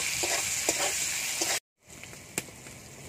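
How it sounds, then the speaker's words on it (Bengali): Eggplant slices rubbed with salt and turmeric fry in oil with a steady sizzle that drops out briefly midway, then resumes with scattered crackles and a few sharp spatula clicks. "এবার বেগুনটা ভেজে নেব।"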